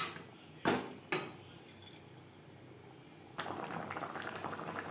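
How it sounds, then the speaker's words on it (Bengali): Tilapia fish simmers in a spicy curry gravy in a pan, first with a couple of sharp utensil knocks against the pot, then a soft, steady bubbling that rises and continues close by, with no talk. "চার পাঁচ মিনিট গ্রেভির সাথে মাছ বেশ ভালো করে ফুটিয়ে নেওয়ার পর"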